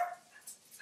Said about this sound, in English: The dogs, they bark, they run through the house